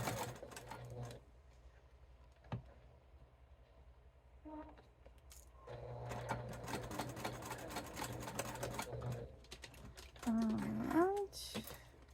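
Sewing machine stitching a bifold wallet, with the needle running in two sustained bursts of steady mechanical whirring, then a short burst of voice-like sound near the end.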